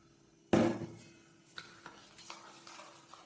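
Yeast being mixed into the dough ingredients for sweet dinner rolls: a loud initial clatter and scrape in a bowl, then several lighter intermittent stirring knocks and scrapes.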